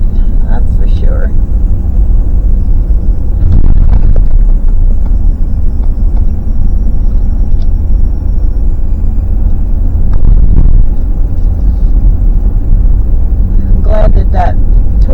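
A truck climbs Going to the Sun Road, its engine a steady low rumble inside the cab, with occasional louder surges and someone talking over it.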